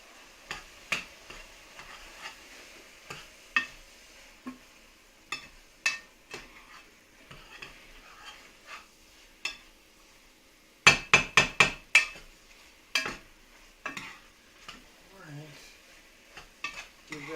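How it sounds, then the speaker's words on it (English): A spoon stirring Hungarian goulash in a pot gives irregular scraping knocks against the metal, with a quick cluster of sharp clinks midway, then a few softer strokes and a faint simmer underneath. "Give that a stir for a minute here."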